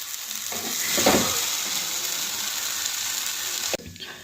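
A wet taro dish being stirred in a frying pan until it dries out, with a continuous close sizzle, a louder burst of scraping around the middle, and a sharp stop near the end.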